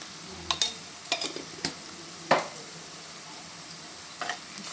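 Ginger paste and turmeric fry and get stirred in a pan, with a soft steady sizzle under a series of sharp scraping stirs and light clinks at irregular intervals, close and fairly quiet.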